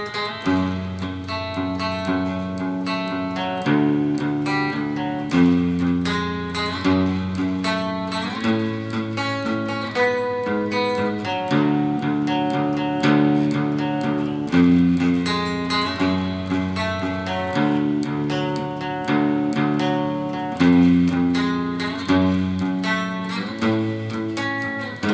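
An electric guitar plays the closing riff of a song, a dense run of strummed chords repeating in steady phrases for about twenty-five seconds, loud and alone with no talking.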